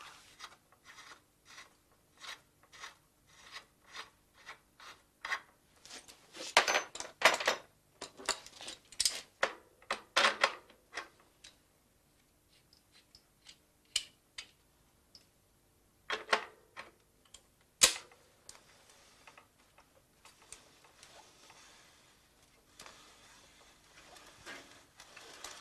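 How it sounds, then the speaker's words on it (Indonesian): A wrench works loose the handlebar stem nut on a bicycle, a series of dry ratcheting clicks and rasping metal scrapes coming in irregular bursts with short pauses, close and fairly quiet with no talking. "dengan menggunakan kunci yang lebih besar, kita buka mur leher setang sehingga kendur"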